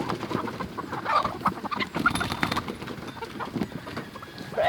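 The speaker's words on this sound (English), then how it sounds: "I'm gonna let out the chickens." Farm chickens clucking just after being let out of their coop, scattered close clucks and calls along with shuffling movement and footsteps.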